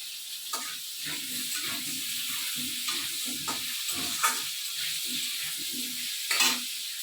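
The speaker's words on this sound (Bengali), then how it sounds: "এখন আলুটাকে লাল লাল করে ভেজে নেব" Potatoes fry in a pan with a constant loud sizzle, while a spatula scrapes and stirs in an uneven rhythm of soft knocks.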